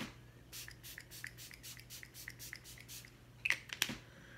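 Several quick, soft spritzes from a pump face-mist bottle, evenly spaced and close, followed by a couple of light handling taps.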